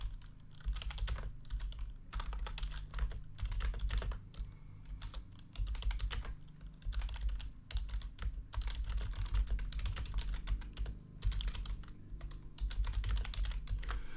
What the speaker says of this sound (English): that's what I was just typing